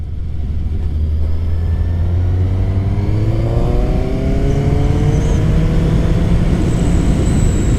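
Suzuki GSX-S750 motorcycle accelerating hard on the road, its engine note climbing steadily in pitch through the revs, loud and close with wind rush, alone without talk.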